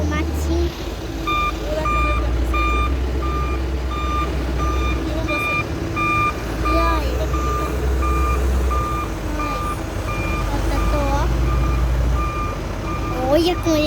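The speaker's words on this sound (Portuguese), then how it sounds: "Eu tô aqui o caminhão de lixo." A garbage truck backs up with steady, evenly spaced reversing beeps over a loud diesel engine rumble, continuous and close throughout, while a person talks nearby.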